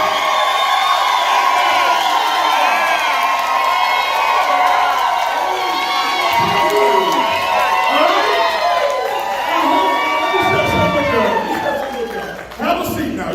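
A Raleigh, North Carolina audience at a business training event cheers and whoops loudly under a strong voice speaking over it, with scattered clapping and shouts rising and falling throughout.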